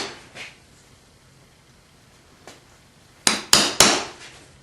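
A hammer taps a punch to set dimples in metal, with a couple of faint early knocks and then three sharp, ringing strikes in quick succession, close and alone.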